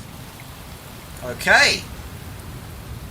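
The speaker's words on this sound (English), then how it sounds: "It is raining." Steady soft rain falls in the detective video game Shadows of Doubt, a constant low hiss running throughout, with someone briefly speaking a single word in the middle.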